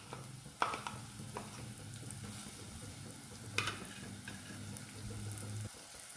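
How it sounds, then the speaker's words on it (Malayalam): Chili and coriander powder paste sautéing in a little oil for a Kottayam-style fish curry, a steady soft sizzle with a few spoon scrapes and stirring knocks throughout, close and moderately loud, no talking. "നന്നായിട്ട് വഴറ്റി കൊടുക്കാം."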